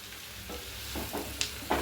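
Chopped onion frying in coconut oil in a pan, with a steady low sizzle and several soft stirring scrapes of a spoon, then brief sharper clinks near the end, close and moderately quiet.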